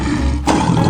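A lion in a 3D animal slide video game gives a loud, close roar lasting under a second, with no voices over it.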